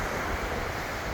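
Ocean surf rolls as a constant broad roar along a beach beside an open-air market, with wind buffeting the microphone and no speech.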